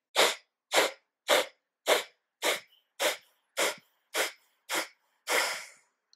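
Kapalabhati yogic breathing: ten sharp, forceful nasal exhalations in an even rhythm, each a short loud puff, the last one longer and breathier, heard close and alone.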